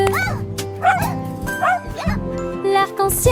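Cartoon dog in a French children's song barking and yipping in short bright bursts over musical accompaniment, several barks spread through the passage, loud and close.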